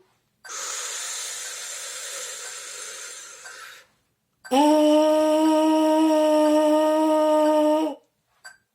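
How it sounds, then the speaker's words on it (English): Slow, deep breaths as part of a trombone warm-up: a long airy inhale of about three seconds, a pause, then a stronger exhale lasting about three and a half seconds, close and loud. "Breathing in."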